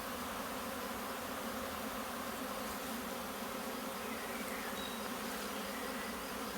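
A dense, steady buzz of many honeybees from a swarm as they are brushed back into a hive. The hum is continuous and close, with no voices.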